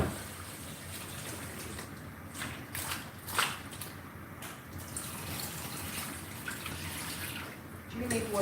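Ingredients for unripe plantain porridge, including pepper, are washed under running water, giving a continuous splashing wash with scattered drips and a few sharper splashes, fairly quiet, with faint voices around it.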